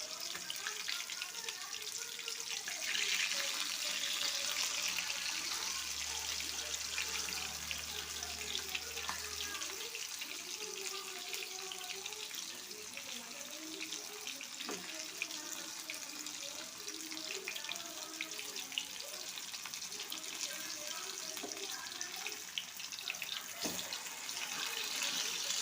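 Murrel fish fry in a pan with a faint, steady sizzling hiss that carries on throughout without a break.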